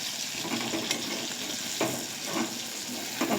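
Salted hilsa fritters made with ash gourd leaves and onion fry steadily in a shallow pan of oil, a continuous close sizzle broken by a few brief scraping bursts as the pieces are turned.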